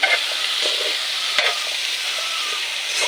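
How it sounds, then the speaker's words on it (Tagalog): Vegetables sautéing in a pan for a simple Filipino ginisang gulay, giving a steady close sizzle with soft stirring scrapes throughout and one brief clatter midway. "ginisa lang to guys, yung pagluto. Gisang gulay lang"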